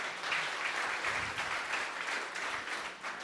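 A crowd at a Startup Grind Silicon Valley talk claps together, a short burst of full, even applause lasting a few seconds with no one speaking over it.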